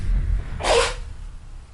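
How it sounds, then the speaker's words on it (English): One short, sharp sneeze bursts out against a low background hum. "I'm gonna sneeze."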